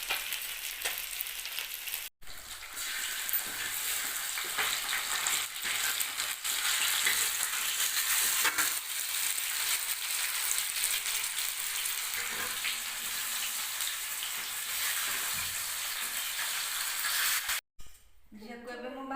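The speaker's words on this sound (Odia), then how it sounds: "ଏଠି ମାଛ ଭଜା ଆମର ଲଗଭଗ ହେଇ ଆସିଲାଣି" Fish coated in mustard masala frying in plenty of oil, a steady loud sizzle and crackle that runs almost unbroken, with brief cut-offs and faint stirring noises near the end.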